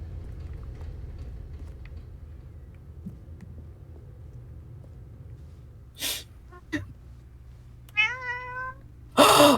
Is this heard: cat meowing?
yes